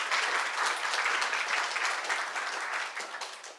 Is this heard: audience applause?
yes